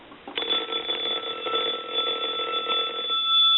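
A Western Electric candlestick telephone bell rings on line voltage, a single continuous metallic jangle lasting about three seconds, close and clear, then a lingering tone.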